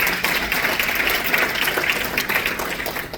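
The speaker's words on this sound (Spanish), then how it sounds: "A los fuertes aplausos del Señor." Congregation applauding in a church service, a dense, even wash of clapping that holds steady for a few seconds without a break.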